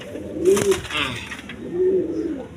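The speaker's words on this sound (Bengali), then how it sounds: "বন্ধুগণ দেখেন এইখানে এক পেয়ার কবুতর আছে" A pair of pigeons, a new-model breed kept for sale, give two low, close coos about a second and a half apart, with a light rustle in between.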